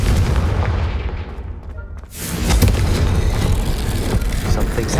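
The Confringo fire spell in Hogwarts Legacy on PS5 sets off a loud, close blast with a heavy rumbling boom, followed by a second deep rolling explosion and trailing debris noise.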